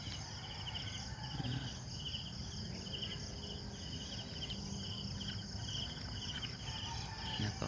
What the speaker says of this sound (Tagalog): Sa gabi po maririnig mo mga kuliglig.